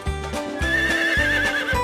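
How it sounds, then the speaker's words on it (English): A horse neighs loudly and close, a long shaky whinny with strong rhythmic pulses, heard alone. "Horse,"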